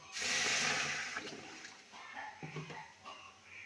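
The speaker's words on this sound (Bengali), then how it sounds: "এবার দিয়ে দেবো দু বাটি জল" Two bowls of water pour onto a bowl of sugar in a pan to start syrup, a brief close gush and splash that tapers into lighter trickles.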